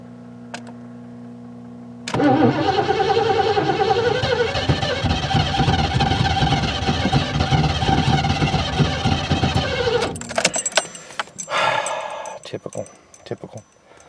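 A Ford Granada engine cranking without catching, a loud sustained churning whir for about eight seconds, then stopping, with clicks and clatter after and brief talk nearby.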